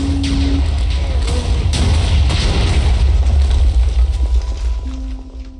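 A loud, heavy blast booms in the Minecraft Missile Wars video game, followed by a rumbling, crackling roar of debris that holds for several seconds before fading.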